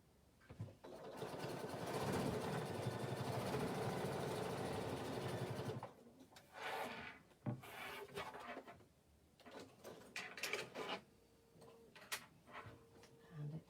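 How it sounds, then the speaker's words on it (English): A sewing machine stitches a row through fabric, running loud and steady for about five seconds, then stopping; softer handling clatter and shuffling of the material follow. "Another row of stitches."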